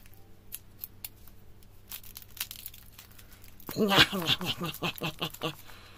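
Scissors cutting open a wrapped package during an unboxing of a haul of Action store items: faint crinkling and light snips, then a loud close burst of rapid cutting and plastic crinkle, with a voice speaking.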